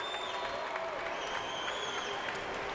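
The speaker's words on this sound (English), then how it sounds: "Cormier's family and friends on their feet, clapping for his performance here tonight" Family and friends applaud after a heavyweight MMA bout at a Strikeforce Grand Prix final, a dense, steady wash of clapping from a crowd with a faint murmur underneath.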